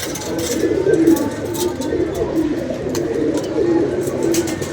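Pigeons coo steadily in low, throaty repeated calls, close and fairly loud, with a faint murmur of activity behind them; the pigeons take flight.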